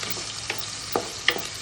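Onions sautéing in a pan for biryani give a soft, steady sizzle with a few brief scrapes of stirring, heard close up with no talking.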